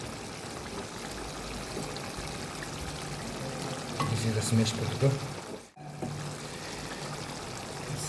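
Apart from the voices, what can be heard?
water being poured into chicken curry with smashed potato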